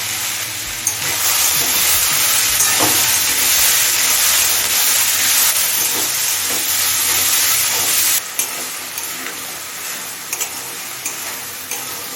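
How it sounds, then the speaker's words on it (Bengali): Potatoes and ivy gourd frying with turmeric, salt and Kashmiri chilli powder in a pan, a loud continuous sizzle with occasional spatula taps and stirring scrapes. "সব মশলা মিশিয়ে আরও পাঁচ ছ মিনিট কষিয়ে নিয়েছি"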